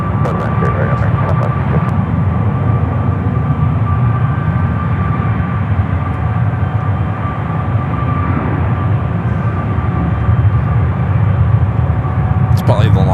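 A United Airlines A319 airliner at San Francisco airport gives a loud, continuous engine roar with a steady whine that holds for the full length, while voices talk faintly underneath.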